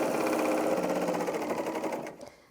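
A Bernina L860 overlocker stitches and trims a fabric edge, a fast, even mechanical whirring that runs close and loud, then winds down and stops near the end.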